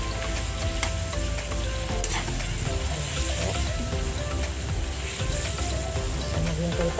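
Bitter gourd sautéed with chicken and egg sizzles steadily in a pan while being stirred, a dense continuous frying hiss with faint scraping throughout, no voices.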